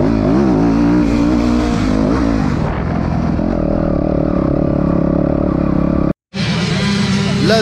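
A motocross bike engine screams at high revs during a wheelie at a motocross meeting on prepared meadow ground, loud and close with the pitch rising and falling and a brief cut before it roars again.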